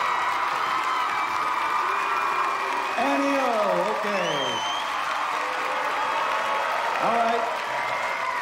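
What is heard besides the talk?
audience cheering and applauding for Sure Shot Annie Rojas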